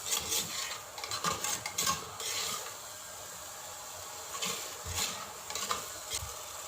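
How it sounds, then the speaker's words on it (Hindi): Green peas are stir-fried with softened tomatoes in a pot, a spoon scraping and stirring in repeated rasping strokes over a faint sizzle, close and fairly quiet. "मटर ऐड करने के बाद इसको 2 से 3 मिनट के लिए भून लेते हैं।"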